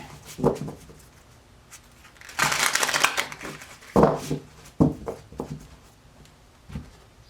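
Tarot cards riffled in a quick, loud shuffle lasting about a second, followed by several soft taps and flicks as the deck is squared up.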